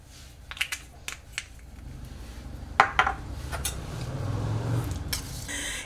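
Ayurvedic powder shampoo paste stirred in a bowl, with scattered clinks and scrapes of a utensil against the bowl, fairly close and quiet, rising into a steadier mixing texture toward the end.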